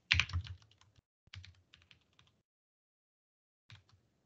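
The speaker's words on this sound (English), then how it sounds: "Right, so let's type that in." Typing on a computer keyboard in a scripting lecture: a quick burst of close keystroke clicks, a second short flurry, then a lone final tap after a silent gap.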